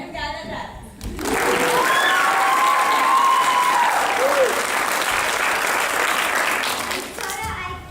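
A school audience applauds the cast of a stage production of The Tempest, a sudden loud burst of dense clapping with a few whoops that holds for about six seconds before fading, with a young voice speaking at either end.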